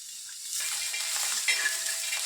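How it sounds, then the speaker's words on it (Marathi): Peanuts being stirred and dry-roasted in a pan give a steady, close hiss and scrape that rises slightly partway through, with no one speaking. "त्याला हलवून घेऊया, चांगलं भाजून घेऊया."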